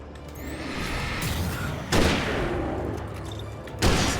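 Hunting rifle shots in the Alan Wake video game, two sharp loud cracks about two seconds apart over a steady rumbling ambience.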